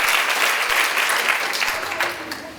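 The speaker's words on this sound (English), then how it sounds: "they deserve a big round of applause" An audience applauds board members at an annual League of Women Voters meeting, a dense, steady wash of many hands clapping that tapers slightly toward the end, with no one speaking over it.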